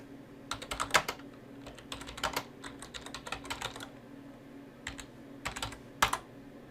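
Git commands being typed on a computer keyboard: bursts of rapid, close key clicks in several clusters separated by short pauses.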